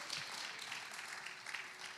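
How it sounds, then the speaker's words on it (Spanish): Church congregation claps in praise to the Lord during a bilingual service, a soft, even patter of applause heard faintly at a distance. "¿Cuánto puede dar un aplauso al Señor"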